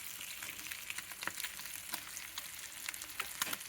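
Marinated fish fries in a pan over a medium flame, a soft, steady sizzle dotted with small crackles and pops.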